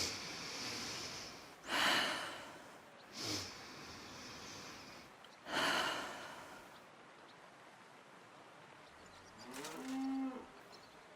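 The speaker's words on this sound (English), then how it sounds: "Your breathing is improving." A patient in Kingdom Come: Deliverance 2 takes deep, heavy breaths. Three loud, close bursts of breathy air are spaced a few seconds apart, then a quieter voiced sigh or groan follows near the end, with silence in between.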